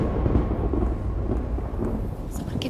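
Thunder rumbles steadily with rain falling throughout, a dense continuous low roar that stays loud for the whole stretch with no voices over it.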